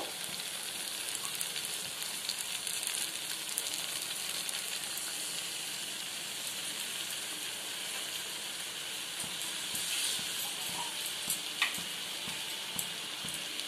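Water from a spice paste poured into a pan of paneer sets off a steady hissing sizzle with steam, continuous and fairly close, with occasional small pops and no speech.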